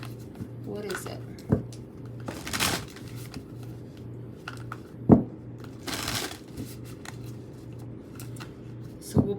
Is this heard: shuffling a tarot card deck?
yes